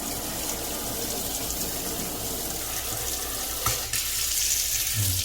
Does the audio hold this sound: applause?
no